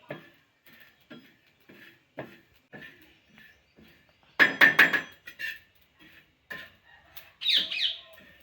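Rhythmic, fairly soft thuds of homemade spice masala with roasted ajwain, cumin and fennel being pounded the traditional village way, about two blows a second. Chickens cluck and a rooster calls loudly nearby afterward.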